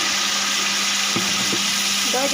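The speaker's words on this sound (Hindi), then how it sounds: "अब हम इसमें पानी शामिल करेंगे।" Water pours into fried masala in a pot while chicken pulao is cooked, giving a loud, steady, hissing sizzle throughout, with a few faint knocks near the end.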